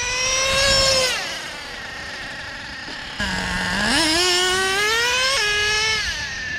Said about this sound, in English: Engine seems to be running just as well as before I baked it in the oven, you know?